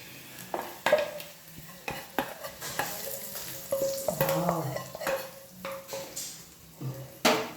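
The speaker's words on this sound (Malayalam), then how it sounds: "കടുക് വറുത്തതും കൂടെ അടിക്കാം." Fried mustard seed tempering hissing and sizzling as it is stirred into a brinjal curd curry, with clinks of a spoon against the pot in short bursts and a lighter crackle underneath.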